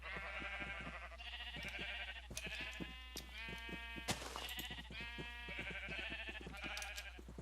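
Repeated blocky bleats from several sheep penned together in Minecraft (FTB DireWolf modpack), a steady overlapping chorus of short calls with no talking.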